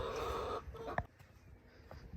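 Chickens clucking in a coop on a cold morning at fresh-water time, a mix of short hen calls and low murmurs with one sharper squawk near the middle, fairly close and moderately loud.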